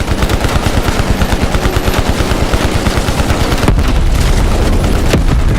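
Loud, sustained automatic gunfire in Call of Duty Black Ops Cold War rattles in rapid, even bursts without a break, with heavier booms layered in toward the end.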